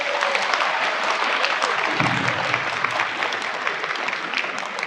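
A large audience in a university hall breaks into loud, sustained applause, thick continuous clapping that fills the room, with a few voices mixed in.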